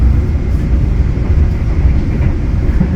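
Interior of a Majapahit economy-class train, a new-generation stainless steel carriage, rolling on the rails between Haurgeulis and Cirebon Prujakan: a loud, steady, low rumbling roar with continuous track noise and no voices.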